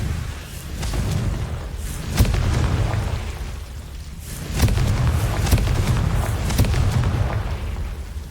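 Confringo fire spell in Hogwarts Legacy: a string of loud, close explosive booms and bursts over a constant rumbling roar, with sharp hits near 2, 4.6 and 5.5 seconds.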